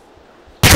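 An RPG rocket launcher fires in a military shooter game, a sudden single loud blast that cuts in sharply after near silence and stays broad and heavy to the end.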